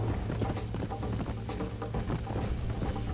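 A horse gallops in Red Dead Redemption 1 during a race, steady rapid hoofbeats drumming under a dense, loud game soundtrack.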